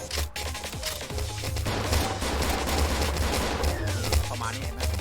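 Rapid bursts of gunfire in the video game Niftyland crackle continuously amid dense, noisy action, with brief sharp shots scattered throughout and no clear pauses.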